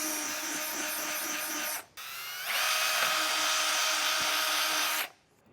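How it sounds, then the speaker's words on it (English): Power drill boring out rivets on a 2023 Jeep during a snorkel installation: a steady high whine for about two seconds, a brief pause, then a longer, louder run, close up with no talk. "So I'll grab my drill, and we're just going to go through and get everything drilled out."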